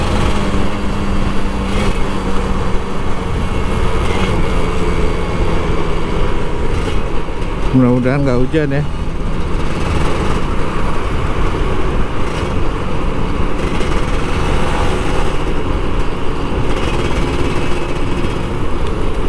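A Kawasaki Ninja RR 150 motorcycle, an older model, runs steadily while riding through city streets after Lebaran, a constant engine drone with road and wind noise and a brief spoken remark partway through.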